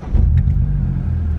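A car fitted with a Scorpion exhaust rumbles close by in a brief, loud burst of deep engine sound that settles into a steady low idle.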